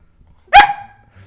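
A single sharp dog bark rings out close and loud, with a short tail trailing off, amid otherwise quiet surroundings.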